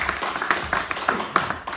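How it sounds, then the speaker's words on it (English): A live audience at a main event gives a short round of applause for two people called up front, with bursts of claps rising and falling over a steady crowd bed. "Let's give Jake and Aubrey a round of applause."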